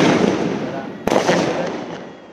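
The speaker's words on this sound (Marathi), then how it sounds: "आता पाठी फटाके वगैरे" Diwali firecrackers and fireworks go off in an open ground in the evening. The bursts and crackling form a dense, loud wash with one sharp bang near the middle, under a crowd's voices.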